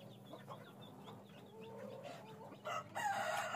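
Fayoumi and hill chickens on a poultry farm cluck and chatter in a steady, faint stream of short calls, growing a little louder toward the end.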